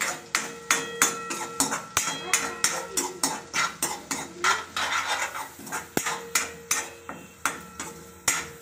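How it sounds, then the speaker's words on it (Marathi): A spatula stirs ginger-garlic paste in a pan for baingan bharta, knocking and scraping the metal in a quick, even rhythm of sharp close clacks throughout. "अद्रक लसणाची पेस्ट टाकून घेऊ आपण, याचा उग्र वास जाईपर्यंत याला परतून घेऊया।"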